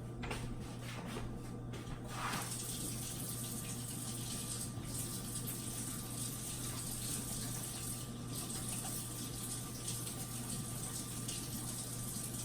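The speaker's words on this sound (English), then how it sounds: "I gotta wash my hands from cracking eggs" Tap water runs steadily into a kitchen sink while hands are washed after cracking eggs, a constant even gush close to the microphone, with no one speaking.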